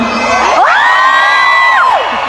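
A crowd of fans shouting and cheering in a loud, sustained collective whoop that swells and then tails off, close and filling the space.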